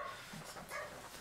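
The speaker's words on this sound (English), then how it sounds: "Pardon if you hear my dog in the background." A dog barks faintly in the background, a few short, distant yips and woofs over low room noise.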